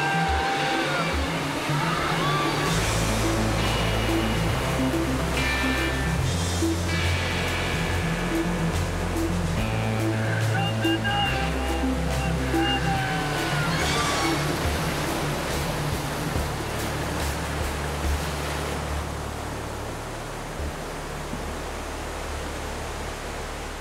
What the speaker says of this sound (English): the Colorado River throws a variety of monstrous rapids at you